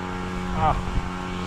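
Motorcycle engine running steadily close by on a trip out to rice paddy farmland, a constant droning hum with a brief rise in revs midway and faint voices underneath.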